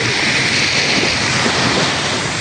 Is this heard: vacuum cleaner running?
no